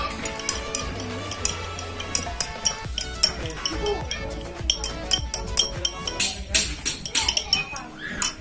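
Homemade hand sanitizer mixture stirred in a glass container, producing repeated bright clinks and taps of a stirrer against glass, close and fairly loud over steady tonal background sound.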